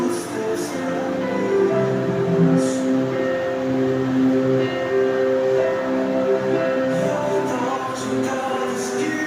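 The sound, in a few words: train passing on railway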